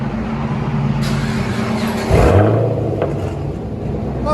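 A Chevy Camaro engine is heard from inside the cabin, a steady low rumble that rises into a brief, louder rev near the middle before settling back to a droning idle.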